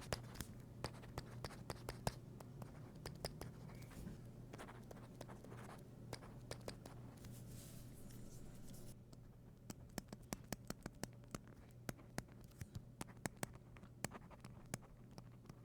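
A soft-tip stylus writes on a Viwoods AI Paper Mini e-ink tablet, producing faint, close, irregular scratchy strokes and light taps over a low steady hum.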